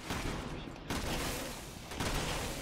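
Assault shotgun fire from Resident Evil 6 combat, two loud broadband blasts with dense reverberant battle noise filling the gaps throughout.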